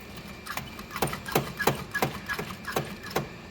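A 1955 Ford engine runs roughly, with evenly spaced loud bursts about every third of a second over a steady low rumble, heard close with no talking.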